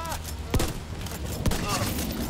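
Two sharp booming shotgun blasts sound about a second apart over a busy, noisy backdrop with faint chatter in the video game Tom Clancy's The Division 2.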